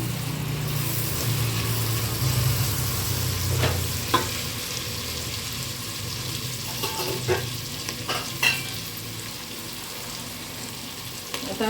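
Cumin seeds crackle in hot oil and ghee for masala rice, a steady sizzling hiss close by with a few sharper pops and stirring clicks scattered through it.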